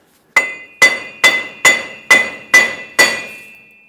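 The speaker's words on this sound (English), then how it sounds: "take a hammer and tap the wheel bearing side to side" A hammer strikes metal seven times in an even rhythm, each tap a sharp ringing clink close by, as a wheel bearing is knocked loose from the hub of a 2003-2009 Dodge Ram 2500.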